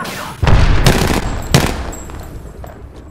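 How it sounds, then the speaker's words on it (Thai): Loud bursts of gunfire in the shooter game Apex Legends, a few sharp shots and rapid volleys close up that ring out and fade over about a second. "ที่เมื่อกี้กูยิงเพื่อน"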